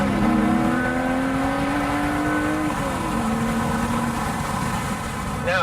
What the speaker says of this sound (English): I like to hear the engine again.